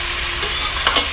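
Chicken curry being stirred as it fries in a wok, a short burst of close sizzling with a couple of scraping strokes from the spoon.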